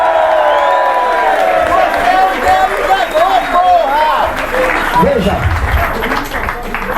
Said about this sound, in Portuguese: Salva de palmas para a ameaça fascista.